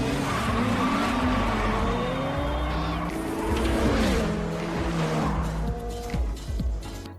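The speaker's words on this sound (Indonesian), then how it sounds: "Terlihat Letty akan melakukan balapan dan ia pun memenangkannya dengan mudah." Street race cars in a Fast and Furious film race scene: continuous loud engine roar with repeated tire squeals and skidding, revving pitch sweeps rising and falling throughout, dense and close with no talk.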